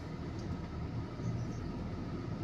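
Street traffic near a market in Sariaya, Quezon makes a low, steady rumble of passing vehicles, a distant engine drone without distinct horns or voices.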